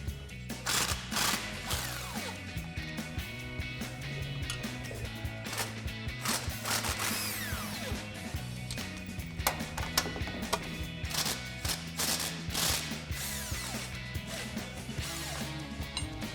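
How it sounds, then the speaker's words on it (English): Ratchet with a 13 mm socket backing out three bolts from a steering stabilizer bracket on a Jeep Gladiator JT, quick repeated clicking bursts with metallic taps and handling noises, close and fairly quiet. "remove these 3 13 millimeter bolts that are holding in our steering stabilizer bracket. So we'll grab a 13 millimeter socket to take these out"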